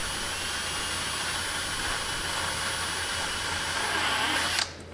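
A power drill bores a hole into the body of a 2021 Toyota hatchback while fitting a factory spoiler, a steady high-pitched whine running close and loud for several seconds before cutting off abruptly at the end.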